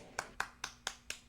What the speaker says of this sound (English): Feel free to clap, class.